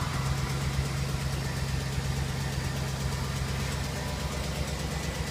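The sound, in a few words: Cadillac Escalade ESV engine idling with exhaust leak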